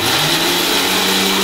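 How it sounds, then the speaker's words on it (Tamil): Onions and tomatoes are ground to paste in a kitchen mixer grinder for chana masala, a loud, steady motor whine and whir filling the brief moment. "மிக்சியில் அரைச்சிடணும்."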